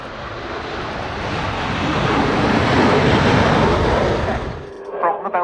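A Belgian Air Component F-16AM Fighting Falcon jet flies past at an air day, a loud broad roar that swells and peaks mid-pass, then cuts off abruptly near the end, leaving a brief burst of other sound.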